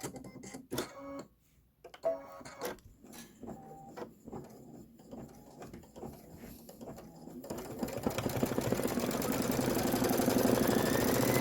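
An embroidery machine sews a placement stitch for a Kimberbell Halloween bench pillow block, starting with intermittent mechanical bursts and then settling into a steady, rapid, close-up whirring hum that grows louder toward the end.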